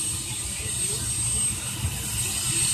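A Black Hawk helicopter's engine warms up before takeoff, with a steady whining turbine hum and a high tone droning on continuously from a middle distance, while voices murmur nearby.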